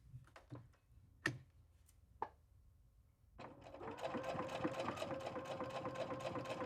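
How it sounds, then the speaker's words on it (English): A domestic sewing machine chain-pieces quilt block pieces for a drawstring bag, starting with a few sharp clicks and taps, then running steadily and closely in a fast, even whir for the last few seconds with no talk. "I'm going to sew all the way down"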